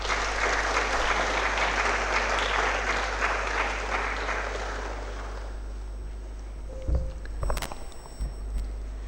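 An audience at a medical college orientation day ceremony claps in a sustained round of applause that fades out after about five seconds, followed by a few faint knocks and rustles in the hall.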